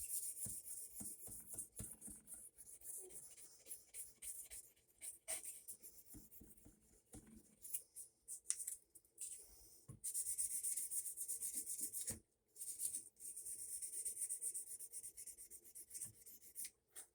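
A metal part is polished by hand, giving quiet repeated rubbing strokes in short bursts with brief pauses, close and fairly faint.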